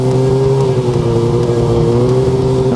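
Snowmobile engine on a northern Minnesota trail idling then revving as the sled sets off, a steady loud droning hum with strong low harmonics that holds throughout.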